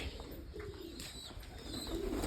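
Pigeons coo softly in short low calls near a coop, with faint rustling and background hum around them.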